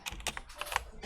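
Quick keystrokes on a computer keyboard, several uneven clicks tapped in a short burst while a CSS margin rule is entered, close and fairly quiet with no voice.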